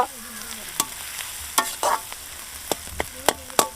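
Onions fry with salt in a pan, giving a soft, steady sizzle broken by sharp spatula scrapes and clacks against the metal every second or so, close up and with no talking.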